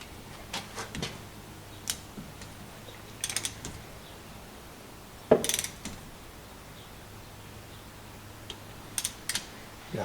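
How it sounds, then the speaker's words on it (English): A hand ratchet tightens bolts on a Mercury 115 outboard engine, giving a few short clicking bursts separated by quiet pauses. The sound is close and moderately loud against a faint background hum. "Just got to flip the ratchet."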